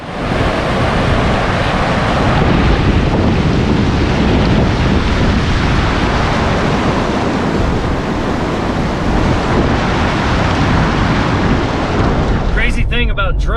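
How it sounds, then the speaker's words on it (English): Water rushing down a stream in the Oklahoma woods, heard from above as a loud, continuous broadband roar with heavy wind-like rumble throughout, no voices. "whenever you put them over where there's water rushing down"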